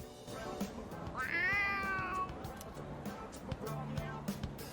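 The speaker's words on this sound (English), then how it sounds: "Oh, a kitty cat!" A single drawn-out cat meow rings out in the video game Persona 3 Reload, clear and close over a soft, steady background score.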